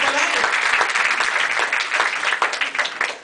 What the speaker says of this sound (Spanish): Dele fuerte el aplauso para el Señor.